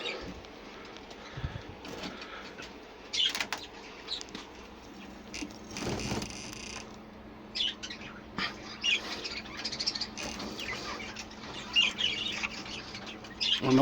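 Young pet birds in the bottom flight of an aviary squawk and chirp in scattered bursts, fairly faint, with light rustling and movement between the calls.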